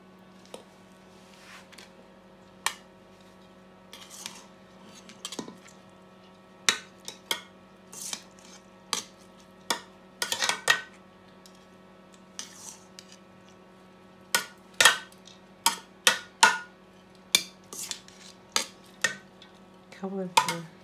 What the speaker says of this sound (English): Now we're going to add the rice.